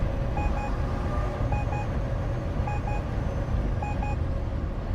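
Steady reversing beeper on a vehicle backing up, evenly spaced pairs of beeps over a constant engine rumble, moderately loud and close with no talking.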